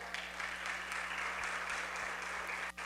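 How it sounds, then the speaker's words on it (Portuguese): Church congregation applauding throughout, a steady broadband patter of clapping held at an even level with a low hum beneath, ending in a brief dip. "Aplauda Jesus"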